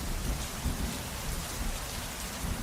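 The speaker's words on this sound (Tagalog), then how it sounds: "hindi pa rin tumila ang ulan. At habang tumatagal, ay palakas ito ng palakas." Heavy rain pours down in a dense, unbroken hiss with a deep rumble underneath, steady and loud throughout, with no voices.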